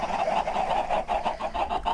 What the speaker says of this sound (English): let me start off by making a lot of noise with a lot of chickens.